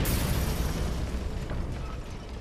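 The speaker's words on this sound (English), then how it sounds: "A bomb explodes." Bomb explosion in a WWII-era meeting room: a dense, heavy rumbling blast that fills the clip from the start and slowly decays over a couple of seconds, loud and close, with no voices.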